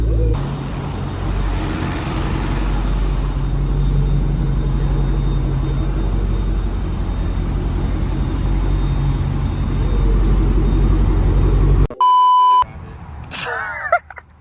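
A Dodge Challenger Hellcat engine rumbles loudly and steadily up close, a deep continuous drone without clear rev spikes, followed by a few electronic beeps at the end.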